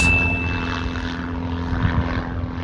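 Light propeller aircraft droning steadily in flight from Solent to Shoreham, a loud continuous engine hum heard from inside the cabin with a faint tone, no talk.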